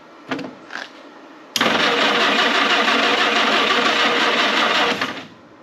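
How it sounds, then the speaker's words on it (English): A historic Ford Willys Jeep engine, hooked to a booster pack, cranks over: two brief clicks, then a loud, steady churning crank of about three and a half seconds that cuts off, with no talking. "Well, it's cranking over."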